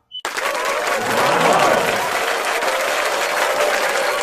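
Sustained, dense applause from a crowd, starting abruptly and holding steady and loud throughout with no voices standing out.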